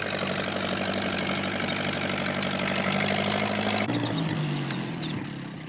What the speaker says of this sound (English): Pat wasn't sure that he wanted to ride on a tractor,